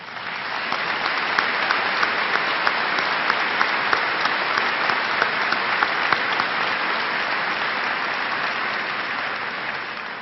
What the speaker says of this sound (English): please join me in honoring him with a round of applause